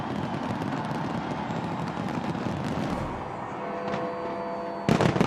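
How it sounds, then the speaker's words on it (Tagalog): New Year fireworks over the London Eye in the United Kingdom crackle and boom in a dense, continuous barrage at a distance, with a sharper burst of bangs near the end. "umilaw ang fireworks display sa London Eye"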